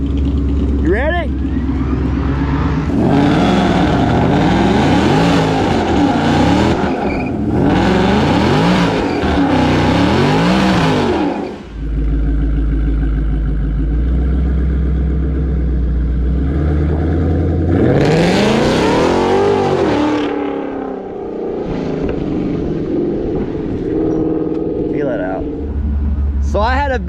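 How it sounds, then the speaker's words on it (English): A VMP Odin supercharged 2019 Mustang GT rumbles and revs at a drag strip, its engine note rising and falling through several loud, roaring pulls with a deep low idle in between, while people talk throughout. "first time down the drag strip, VMP Odin, put down 914 to the wheel on a Mustang dyno."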